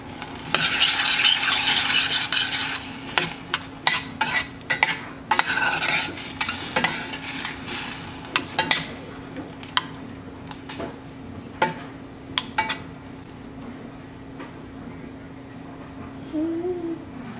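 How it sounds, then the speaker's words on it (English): A spoon stirs blueberries coming to a boil in a pot, giving repeated scraping and clinking strokes with a soft bubbling hiss beneath, busier at first and then thinning to occasional taps. "You can see it's starting to boil on the sides. So I'll mix it around."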